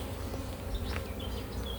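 Honeybees hum steadily and thickly around an opened hive frame holding drone brood and bee bread, a close, continuous swarm drone with no voices over it.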